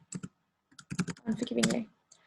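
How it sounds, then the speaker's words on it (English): Quick computer keyboard clicks come in short bursts and a steadier run, close by, with a voice murmuring over the typing. "not very good at typing today"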